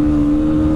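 A BMW car engine at full power, a loud, close, steady droning roar with a strong sustained tone that holds throughout the short burst.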